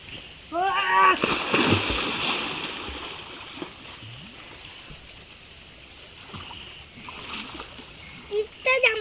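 Water splashes and sloshes in a few bursts in a lake while someone swims, with a voice speaking nearby between the splashes.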